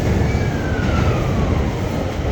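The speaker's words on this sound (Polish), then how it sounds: "Jesteśmy na stacji Shibuya" Train noise at Shibuya station in Tokyo: a steady, loud rumble of rail traffic, with a faint rising whine or squeal running through it and no voices.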